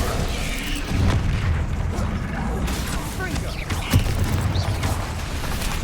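Fire-spell blasts in Hogwarts Legacy combat, booming bursts over a steady rumbling bed, one sharper hit near the end.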